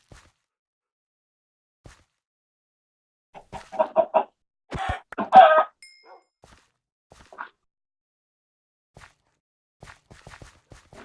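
A chicken in a farm area of a video game gives a few sharp, scattered clucks and squawks, loudest in a burst near the middle, mixed with light footsteps and small game dings.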